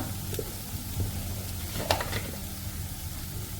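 Ginger garlic paste frying in a pan, giving a low steady sizzle with a few brief scraping stirs, fairly quiet and with no one talking.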